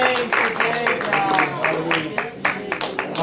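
A church congregation claps along in rhythmic bursts, close and lively, mixed with cheering voices and talk over the top.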